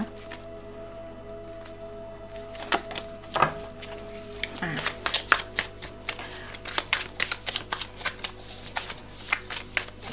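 Tarot cards shuffled on a tabletop, a run of quick crisp riffling and tapping bursts that grow denser toward the end, close and fairly quiet.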